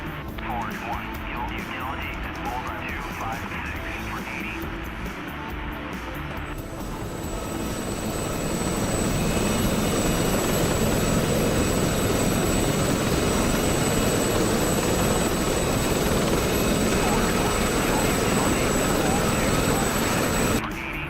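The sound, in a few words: Gazelle helicopter flying, from a video game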